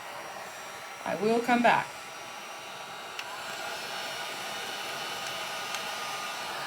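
A heat tool blows a steady, even whir of air over a wet t-shirt during a Chalk Couture wet-shirt craft technique. A voice speaks briefly near the start, and the hum continues alone afterwards.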